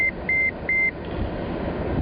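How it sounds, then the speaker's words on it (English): Three short electronic beeps inside a taxi, evenly spaced and fairly clear over a steady low rumble of road and engine noise. "There it was, 50 beeps just for you."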